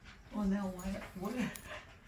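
A pet dog named Daisy, outdoors near a park where deer gather, whines and yelps in a close, strained run of whimpering and panting sounds, with people talking around her.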